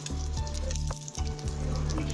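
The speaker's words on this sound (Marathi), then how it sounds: "हे पराठे दोन्ही बाजूनी मस्त असे भाजून घ्यायचे आहेत" Lachha paratha frying in oil on a pan over low to medium flame, a dense, close, continuous sizzle with a brief dip in the middle.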